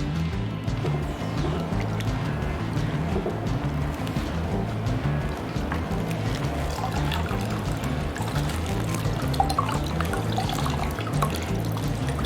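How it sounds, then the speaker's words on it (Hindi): A cloth strip about 8 inches wide and 3 metres long is soaked in cold water from a fridge bottle, giving a continuous close-up sloshing and trickling with small drips and no pause. "इस पर पट्टी को पूरा गीला कर लेंगे।"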